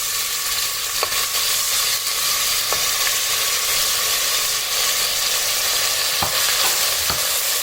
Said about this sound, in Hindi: यहाँ पे तेल गरम हो चुका है, इसमें डालेंगे ये प्याज